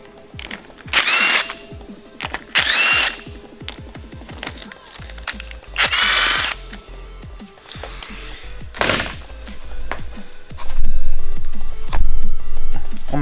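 A power drill spins the five 10mm valve cover bolts out of a Subaru engine during a head gasket job, loud repeated whirring bursts separated by metallic clicks and clunks, close to the microphone.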